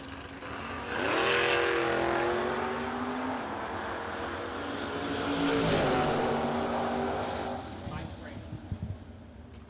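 Drag racing at a track, with a heavy Chevy and an S10 truck launching: a loud sustained engine roar that rises twice as they pull away, and an announcer talking over it.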